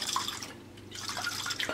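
Water is added to a pot while cooking, giving a soft, continuous trickling and splashing with light drips, close and fairly quiet, with no speech.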